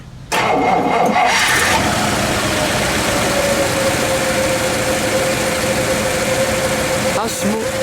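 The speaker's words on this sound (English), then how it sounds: "Well, let's fire it up, shall we? Yes, sir. We'll let it idle." A 1955 Imperial Newport V8 engine cranks over, catches and settles into a steady, smooth idle up close, with people talking faintly over it near the end.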